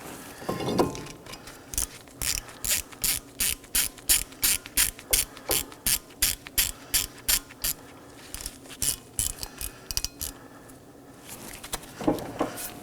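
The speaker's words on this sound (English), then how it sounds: "I'll just be snugging this down. It is a T30 screw." A ratchet tightening the T30 screw that holds the brake rotor on a 2018-2024 Chevrolet Equinox 1.5L, giving a long, steady run of crisp clicking bursts close up, with a brief clunk at each end.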